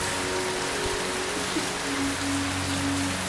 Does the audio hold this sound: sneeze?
no